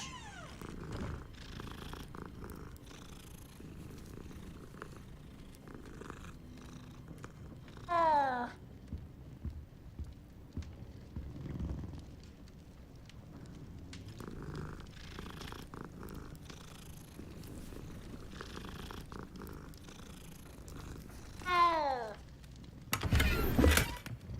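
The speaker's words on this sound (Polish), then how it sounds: "Koty! Trzeba wszystkie pogłaskać." Cats purr and meow in the Hogwarts Legacy video game, a steady close purring bed broken by a few rising meows, with a player talking over parts of it.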